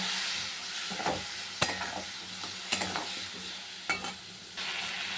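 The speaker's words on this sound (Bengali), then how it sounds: "এবার মশলাটা কষিয়ে নিই" Spice paste with turmeric, salt and a splash of water is stir-fried for a hilsa fish curry, a close steady sizzle broken by several sharp spatula knocks against the pan.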